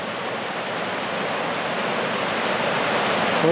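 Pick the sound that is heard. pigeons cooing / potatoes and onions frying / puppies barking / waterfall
waterfall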